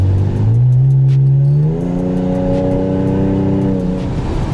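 A Ford Mustang engine revs loudly while driving, a strong steady drone that climbs in pitch, then settles into a sustained higher whine through the rest.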